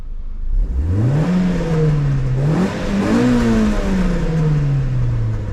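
Close, loud revving from a 2011 Renault Clio 3 RS 2.0-litre, its pitch climbing and falling over a rumbling idle, with faint crackles from the exhaust at the rear.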